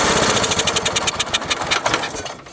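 A John Deere 300's small engine, primed and choked, runs at mid-throttle with a loud, close, uneven chugging pulse, then stumbles and cuts out near the end.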